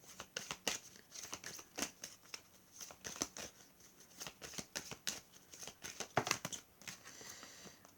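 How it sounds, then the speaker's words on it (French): Tarot cards handled and drawn from a deck, giving quiet close crisp flicks and shuffling snaps in an irregular run, soft and alone without talk. "je vais tirer 3 cartes comme d'habitude"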